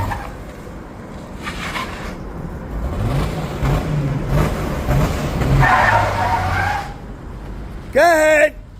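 A car on an offroad venue performs a three-point U-turn, its engine revving and tires scraping across dirt at moderate distance, while people talk over it and a short squealing burst cuts in near the end.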